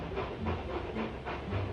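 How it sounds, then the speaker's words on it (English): Steam locomotives chuff steadily into a rail yard in an animated children's series, through a hissing, rumbling backdrop, with regular puffing bursts and faint rail clatter. "James and Edward puffed into the yard"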